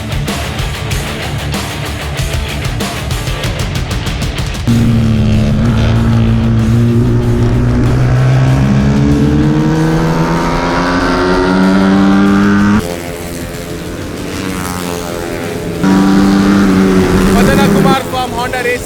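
TVS and Honda racing motorcycles roar past on the INMRC track at Coimbatore, with loud high engine whines rising and falling in pitch as bikes rev and pass, in two long bursts separated by quieter stretches.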